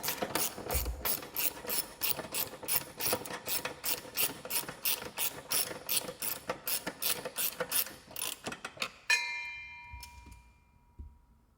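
A hand ratchet snugs the bolts on an MGW shifter for an MT-82 transmission, clicking in a fast, steady run of sharp pawl ticks for about nine seconds, then a few scattered metallic clinks as it stops.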